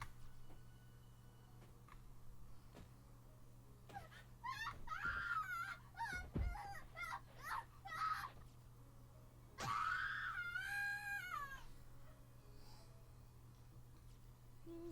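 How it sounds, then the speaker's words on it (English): A boy screams in terror in the horror video game Corpse Party, with wavering, high-pitched wails in two main bursts over a low steady hum, interspersed with faint clicks and thuds. "I've never heard screaming like this before. It's pure primal terror, cutting through the air like a perfect sine wave."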